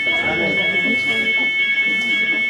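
A smoke detector alarm sounds a steady, loud high-pitched tone throughout, while someone speaks over it.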